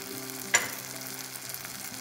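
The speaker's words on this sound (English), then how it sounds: "And stirring it nicely" Ginger-garlic paste, cumin and coriander powder fry in a pan for green moong dal curry, a soft steady sizzle with a single sharp spatula scrape at the start.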